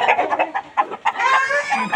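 Hens cluck in a garden as they come into egg laying, a close run of short, choppy clucks that builds into a longer drawn-out cackle, with no talking.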